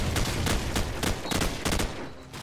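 Burst-weapon gunfire in Call of Duty 4, a run of sharp shots in short clusters over dense game noise, loud and close, with no talking.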